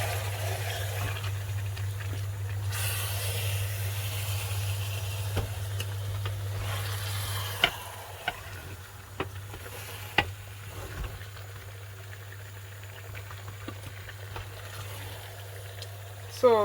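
A pot of Nigerian vegetable soup with meat is stirred, with a steady simmering hiss and low hum throughout, a few sharp scrapes and clinks from the spoon against the pot, and a clatter at the end.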